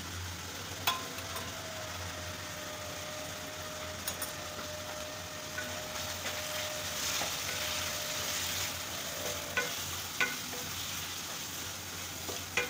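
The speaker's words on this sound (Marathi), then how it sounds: "मसाला छान परतून घ्यायचा" Masala with Kashmiri chilli and turmeric fries in a pan, giving a steady, quiet sizzle broken by occasional sharp scrapes and clicks of stirring.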